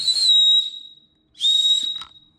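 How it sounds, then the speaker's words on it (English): An emergency whistle hanging from a phone case lanyard gives two loud, shrill, steady blasts, each under a second long, separated by a short pause and followed by a brief click. "It also comes with a whistle."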